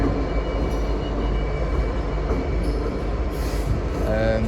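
At Doncaster, a double-headed Freightliner freight train without its containers rolls by with a heavy steady rumble, joined late by faint squeals and tonal whines from the wheels or engines.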